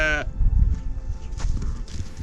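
A sheep on a mountain trek bleats once in a short, wavering cry at the start, followed by low rustling and shuffling nearby.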